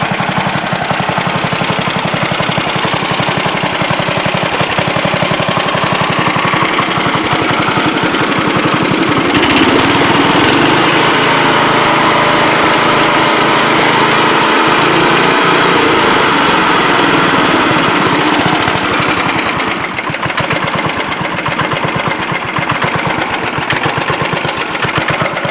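A small Broadmoor 728 garden tractor engine runs steadily and loudly at close range, a constant buzzing drone with a few sputters and no voices.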